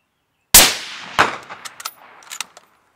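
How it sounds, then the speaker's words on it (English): Rifle shots hit a steel swinger target on a biathlon range, a sharp metallic clang followed by a second strike about half a second later, then scattered lighter clicks and rattles fading out. "you have to fire all your remaining shots at the swinger target"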